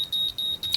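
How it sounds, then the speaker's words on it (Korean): A curling iron's ten-second timer beeping, four quick high-pitched electronic beeps in an even rhythm, fairly faint and close, with no talk over them. "삐삐삐 하면 10초가 지났다는 얘기예요."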